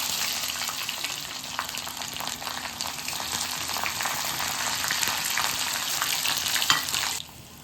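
Mustard seeds sizzle in hot oil for an instant raw mango pickle, a loud, steady, crackling fry with bursts of popping that cuts off abruptly near the end.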